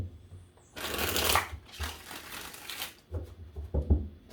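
A tarot deck is shuffled by hand in several bursts of riffling card flicks, close and crisp, with brief pauses and soft taps between shuffles.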